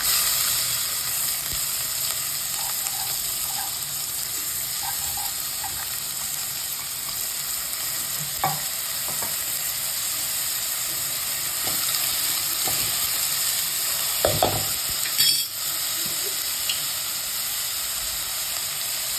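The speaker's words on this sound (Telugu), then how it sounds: "పోపు పెట్టుకుని ఉల్లిపాయ వేస్తాం" Onions frying in hot oil after a seed tempering give a steady, even sizzle throughout, broken now and then by soft clinks and scrapes of stirring.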